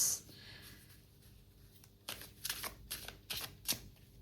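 Tarot cards shuffled and drawn by hand: a soft slide, then a string of quick riffling flutters and snaps close by, with no talk.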